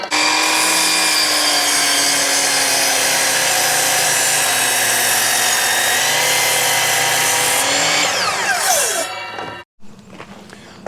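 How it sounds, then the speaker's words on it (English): A power drill bores a hole into a piece of firewood to hold a votive candle, a loud, steady whine running close and unbroken for about nine seconds before winding down and cutting off. "This is going to be drilled right inside there."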